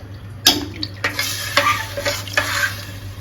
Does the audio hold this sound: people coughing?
no